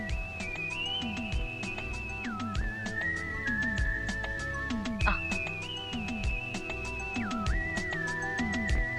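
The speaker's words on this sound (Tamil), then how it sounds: "ஒரு ஐயா மேலிருந்து வந்து விசில் அடிச்சாரு" A man whistles a sustained, wavering melody, loud and close, with pitch holding steady and then stepping down and back up, while soft rhythmic background sounds continue underneath.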